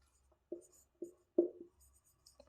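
Pen or chalk strokes mark out a handwritten maths definition in a quiet room, a few short, close scratches in irregular bursts separated by silent pauses.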